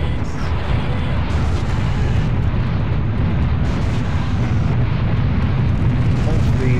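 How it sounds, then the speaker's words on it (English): Fire beams blasting in the game Serious Sam HD, a loud continuous roaring rumble with bursting explosive texture that stays dense and even, and speech may sit within the din. "Oh, fire beams."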